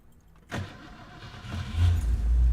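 A 1963 Lincoln Continental's older engine cranks with a sharp start at about half a second, then catches and fires up, swelling into a loud, steady low rumble by the end.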